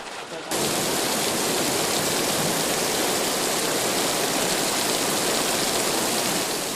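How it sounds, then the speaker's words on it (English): Heavy rain from a mountain storm suddenly breaks into a loud, dense, continuous hiss after a brief quieter moment, then keeps pouring steadily and close with no letup. "Keep in mind the rain you hear is starting to come down"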